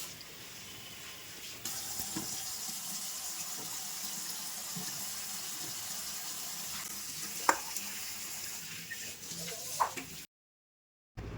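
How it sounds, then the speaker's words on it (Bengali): Hot water runs over cut cauliflower florets in a kitchen, a steady close rushing splash with a few brief knocks and clinks, then a short cut to silence near the end. "এবার আগে থেকেই কেটে রাখা ফুলকপিগুলোকে গরম জল দিয়ে ধুয়ে নিব।"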